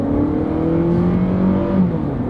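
A car with a 2.4 liter engine accelerates from an intersection, giving a steady engine drone with a rising tonal whine, close and continuous throughout.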